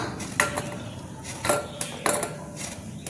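Knife cutting washed brinjal on a board in a home kitchen, a few sharp separate chops and taps spaced about half a second apart, close and moderately loud, with no voices.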